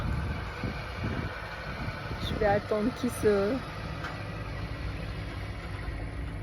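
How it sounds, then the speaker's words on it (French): A large truck passes on a nearby road outdoors, a steady low engine rumble running the whole time beneath a man's brief speech. "il y a un gros camion qui passe"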